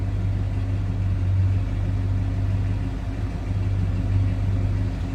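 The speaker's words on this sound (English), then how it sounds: "Kind of a nice, deep, throaty exhaust note." A 1979 Chrysler Cordoba T-Top idles with a deep, throaty exhaust note, a steady low rumble heard close and alone, with slight rises in loudness.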